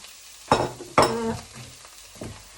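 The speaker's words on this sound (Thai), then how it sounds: "แล้วก็จะคั่วลงไป ในกระทะ" Pork stir-fried in a pan with southern Thai curry paste and shrimp paste, with two loud scraping stirs early on and a softer one later over a low sizzle.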